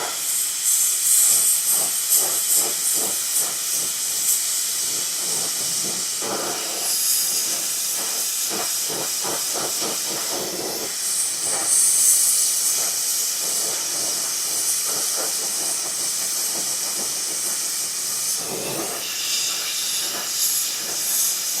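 An oxygen torch with a new oxygen tank hissing steadily while heating metal for brazing a patch repair, a loud, close, continuous roar with light rattling and clicks underneath.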